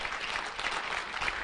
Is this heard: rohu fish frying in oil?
no